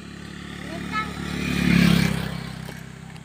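A motorcycle engine swells louder to a peak at mid-clip and then fades again as it passes, while people talk nearby.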